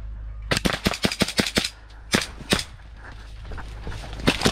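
Gas blowback airsoft DMR rifle firing in an outdoor skirmish: a rapid run of about seven sharp shots, a pause, two more, then another late shot, loud and close over steady background noise.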